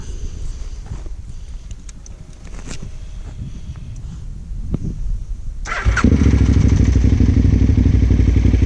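A KTM 990 Adventure S motorcycle sits quietly with faint clatter and shuffling before the engine catches near the six-second mark and settles into a loud, steady, throbbing idle up close, with no talk.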